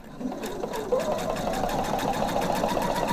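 A sewing machine runs steadily while stitching a stand collar, giving a close, even mechanical hum with a rapid rhythmic pulse and no speech.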